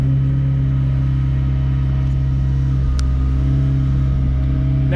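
A McLaren 765LT or 720S engine idles with a steady, loud, close rumble as throttle is applied, holding a constant drone with one brief click partway through.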